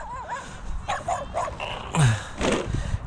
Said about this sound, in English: I think this dog's going to bother me.